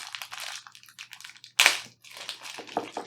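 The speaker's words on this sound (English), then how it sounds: "That's the sound of dice rolling" Solid plastic dice from a SkullSplitter set clatter and tumble across a surface in one brief, loud rattling burst, framed by quieter handling and rustling sounds before and after.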